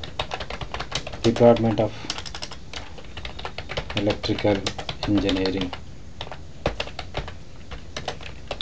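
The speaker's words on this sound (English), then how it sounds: "I am typing" Rapid keyboard clicks from typing a heading into a word processor, steady close-up tapping with short pauses, while someone talks over it.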